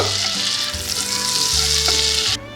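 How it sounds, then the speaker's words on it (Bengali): Whole cumin seeds fry in hot oil, a loud close crackling sizzle that stays steady for a couple of seconds and then drops off abruptly, with no speech. "গোটা জিরে ফোড়ন দিলাম। জিরেটা ভাজা ভাজা করে নেব।"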